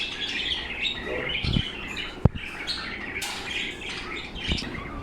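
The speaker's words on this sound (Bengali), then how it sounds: "এটা হচ্ছে ক্যানারি, এগুলো ক্যানারি।" Canaries chirp and trill continuously in a wholesale bird shop, many birds overlapping at close range, with a few sharp knocks and clatters among the cages and no talk.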